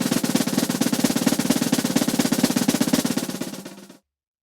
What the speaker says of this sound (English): It's a drum roll on a snare drum where we're allowing the sticks to bounce.